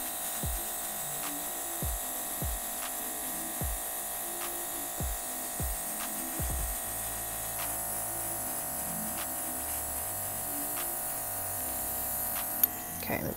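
A steady mechanical buzz with a high hiss runs throughout as an airbrush sprays nail art onto nails over a paper towel, and soft clicks and taps recur in the first half.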